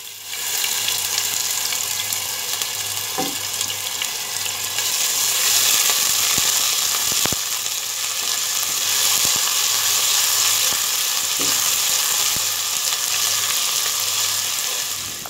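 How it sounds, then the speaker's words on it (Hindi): Ginger garlic paste frying in a pot for spicy biryani, a continuous close sizzle with a wet hiss and occasional faint clinks, no voices. "अब हम इसमें अदरक लहसुन का पेस्ट डालेंगे।"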